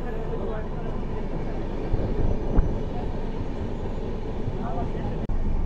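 The 12503 SMVT Bengaluru–Agartala Humsafar Express runs past Bangarupet Junction, giving a continuous loud rolling rumble with a few faint knocks and one sharp clunk near the end.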